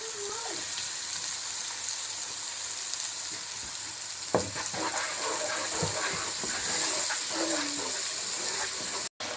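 Tomato and onion paste frying in a pan for an egg and chickpea curry, a soft steady sizzle with occasional stirring scrapes, fairly quiet, with faint voice sounds at times.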